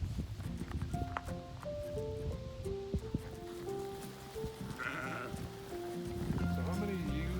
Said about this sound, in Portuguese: So how many ewes do you have? Breeding ewes? Like this one?